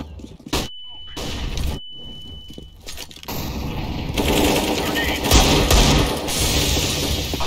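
Gunfire in CS:GO, bursts of rapid shots and impacts building into sustained loud firing in the second half, with voices talking over it.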